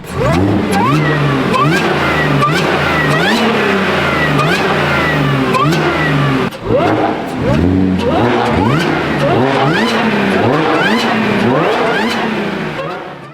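An Audi S5 with an aftermarket intake revs repeatedly, its engine note climbing and falling in sharp, loud bursts, close by, with a brief pause midway before more revving.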